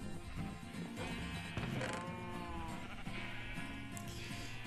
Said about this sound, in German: Die Schafe werden auch immer mehr.